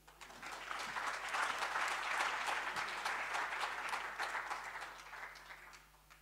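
Audience applause at a conversation event with President Thabo Mbeki builds quickly into a full, busy clatter of many hands, holds for several seconds, then thins out, heard at a moderate distance.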